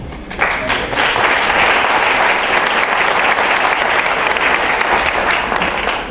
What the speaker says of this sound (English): will you hold your applause until they're all standing?